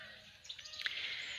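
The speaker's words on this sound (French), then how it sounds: "dehors, comme ça, avec les petits oiseaux" Small birds chirp outdoors in a few brief, thin tweets over a faint background, fairly quiet and without talk.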